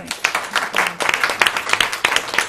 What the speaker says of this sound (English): can we give everyone applause?